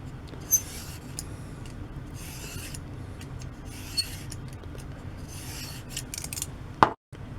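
A vegetable peeler's blade is slid repeatedly across a Triangle Sharp Maker ceramic rod, making soft, quiet rasping strokes in an irregular rhythm. A sharper knock sounds near the end.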